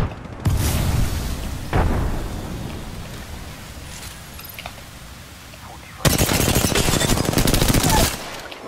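Apex Legends battle with a loud close explosion followed by rumbling decay, a second boom, then a sustained burst of rapid automatic gunfire lasting about two seconds.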